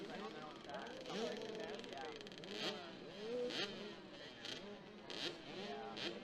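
Several 65cc motocross bikes race in the 2018 Mini Major open class, their high, buzzing engines rising and falling as they rev through the course. The bikes sound fairly distant, under ongoing commentary from an announcer.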